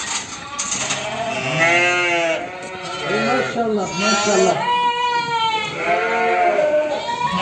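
Sheep and lambs, part of a flock of about 400 on a farm, bleat repeatedly in long wavering cries, several animals overlapping close by, while someone speaks briefly between the calls.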